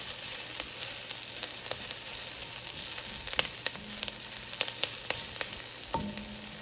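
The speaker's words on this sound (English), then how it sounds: "next is the garlic. We'll saute that for another 30 seconds" Garlic sautés in a pan for a Filipino pork sinigang, a quiet steady sizzle broken by scattered light clicks and scrapes of a utensil, heard close and without voices.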